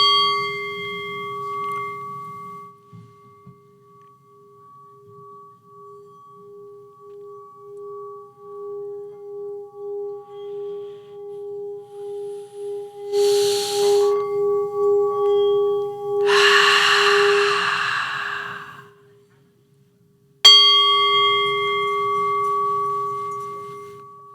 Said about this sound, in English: I got a sound bowl.